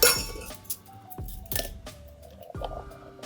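A coffee cocktail double strained into a chilled coupe, with repeated glassy clinks and knocks of the strainer and shaker against glass, several sharp taps spaced across the moment, close and moderately loud.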